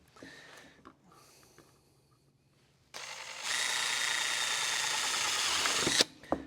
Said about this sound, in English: I don't mind drilling into it.